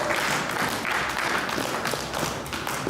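A church congregation applauds, giving steady, dense clapping that fills the room at moderate volume, with no break.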